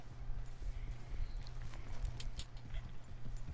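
A horse's hooves clip-clop at a steady walking rhythm in Red Dead Redemption 2, a moderate, evenly paced series of clear hoof strikes over soft ambient background.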